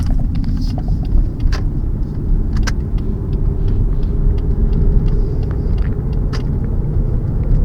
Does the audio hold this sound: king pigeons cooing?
no